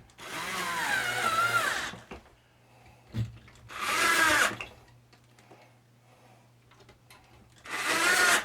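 Power drill driving screws during an RV repair, three separate bursts of rising whirring near and fairly loud, each lasting one to two seconds with quiet gaps and a light knock between them.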